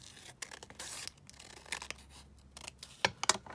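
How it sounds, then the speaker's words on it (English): Scissors cut across the top of a paper book page for junk journal ephemera, giving a few quiet, scattered snips and paper rustles up close. "so I'm just going to cut it across at the top a bit."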